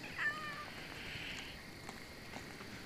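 A pet cat at a lakeside cabin site where land is being cleared gives one faint, short meow near the start. A steady outdoor background hiss continues underneath.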